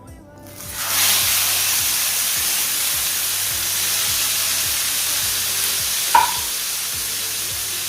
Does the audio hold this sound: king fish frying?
yes